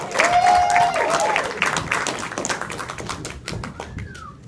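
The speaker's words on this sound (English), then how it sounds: "Here comes Brent Schreiber. Make some noise for Brent Schreiber, folks. Let him hear it" Loud comedy club audience applause with scattered whistles and cheers, gradually fading over a few seconds.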